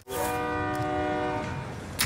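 A train in the video game Call of Duty Warzone blows a long loud horn, a sustained harmonic blare over rumbling rail noise lasting nearly two seconds.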